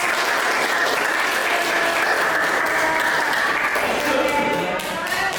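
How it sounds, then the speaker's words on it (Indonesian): A class of students gives a student group a round of applause, a dense, loud and continuous wash of clapping that fills the room and eases slightly near the end. "kita kasih tepuk tangan buat mereka."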